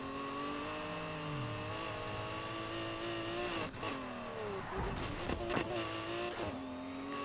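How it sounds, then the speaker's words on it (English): A twin-turbo car engine in Need for Speed Heat revs hard and continuously, pitch rising through gears with brief shifts and a few sharp bursts, loud and close. "I can hear that twin turbo as well. Engine of this car just screams."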